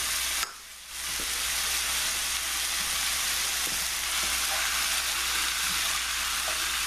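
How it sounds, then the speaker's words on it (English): Risotto with vegetables and fish bubbles and sizzles in a pan in a steady, dense hiss, broken by a brief dip near the start, with faint scraping stirs underneath. "we're not going to waste all this film on watching me stir"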